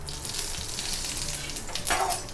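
Mustard seeds, urad dal and cumin hiss in hot coconut oil, a close, even sizzle that swells into a sharper crackling burst near the end, with no one speaking.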